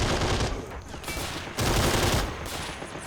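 Heavy gunfire from a British 17-pounder anti-tank gun in the war strategy game Men of War: Assault Squad 2: loud, booming blasts with rumbling, rattling tails, arriving in two close waves and filling the clip.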